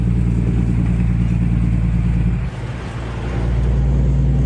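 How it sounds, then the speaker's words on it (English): A semi truck drives through a short tunnel in Dallas, its engine giving a loud, steady low drone that dips briefly partway through and then builds again, with no voices. "See if we can get the RPMs up enough. Make some noise through this little Dallas tunnel."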